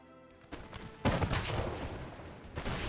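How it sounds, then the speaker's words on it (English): A cannon hit in a Napoleonic-era battle video game bursts out as a loud, rumbling boom with crackling gunfire, following a quieter stretch, then continuing as dense, sustained battle noise with another swell near the end. "the cannon hit."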